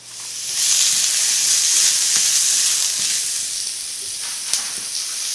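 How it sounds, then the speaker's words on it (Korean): Sliced onions for japchae hit a hot oiled pan with a loud, steady sizzle that hisses on for several seconds, with faint clicks of stirring near the end. "썰어놓은 야채 좀 볶아줄게요. 양파 먼저"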